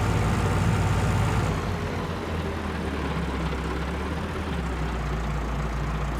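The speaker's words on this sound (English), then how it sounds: "you can hear the boats chugging along" Low, steady boat engine rumble in the video game Farming Simulator 19 drones throughout, a deep continuous chug with no voices, fairly loud and constant.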